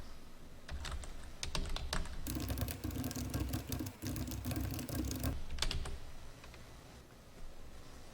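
Rapid clicking of a computer keyboard as someone types and presses Shift+Enter, dense bursts of close, crisp keystrokes with a short pause midway, quieter toward the end; no voice.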